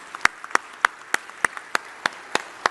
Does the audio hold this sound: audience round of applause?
yes